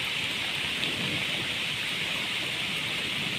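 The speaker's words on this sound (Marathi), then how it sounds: "पावसान पण लय जोर धरला आता फोन पण भिजता माझा भिजागत झाला" Heavy unseasonal rain in the Konkan pours steadily and loudly throughout, a dense continuous hiss with no pauses or voices.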